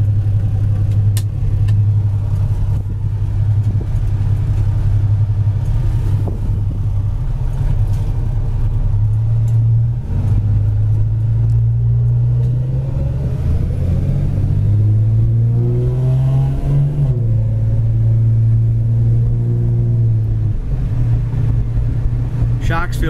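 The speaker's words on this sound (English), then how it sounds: "it's got headers and dual exhaust, which really sounds cool" A 1975 Dodge Dart Sport six-cylinder engine with headers and dual exhaust idles with a deep, steady rumble, its pitch rising briefly as it revs, while someone talks over it.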